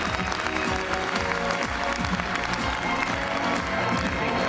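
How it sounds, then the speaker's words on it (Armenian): A concert audience gives loud, sustained applause for the students of a vocal studio, with thick, continuous clapping and some crowd noise and cheering mixed in. "Եկեք բարձր ծափահարություններ էին բոլոր աշակերտներին"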